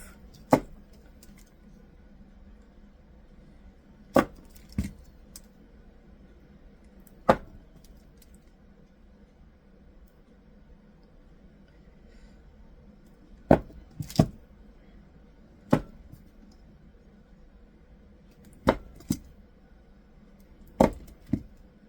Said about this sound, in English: Cut it into bars.